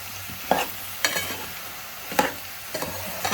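A spoon scrapes and stirs ridge gourd curry cooked with milk in a pan, with soft sizzling underneath. The strokes come in a few separate, moderately loud scrapes spaced about a second apart.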